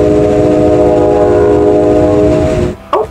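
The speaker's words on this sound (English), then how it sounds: "It's a train." A train passing near a nature center, its horn blaring over a loud, steady rumble of wheels close by, both cutting off near the end, followed by a brief faint sound.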